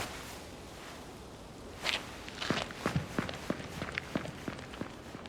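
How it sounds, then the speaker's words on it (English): Footsteps approaching in the Silent Hill 2 Remake, a quiet background giving way to a run of distinct thudding steps that grow more frequent and closer over several seconds. "Thomas Orozco's footsteps start approaching."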